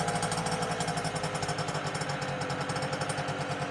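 An NSU Quickly S23 moped engine runs close by with a steady, rapid, loud putter that holds evenly from start to end, and no voices are heard.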